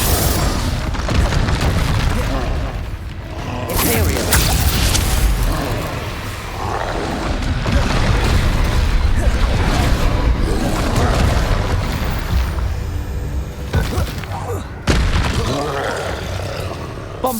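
Spell explosions from Bombarda casts in the Hogwarts Legacy video game boom repeatedly through dense, loud combat, with shouted incantations over a continuous roar of battle effects.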